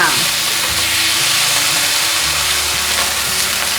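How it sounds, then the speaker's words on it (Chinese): Tofu stir-frying in a little olive oil in a pan for a vegan home dish, a steady loud sizzle and hiss with occasional scraping as it is tossed quickly. "把豆腐放进来， 快速翻炒"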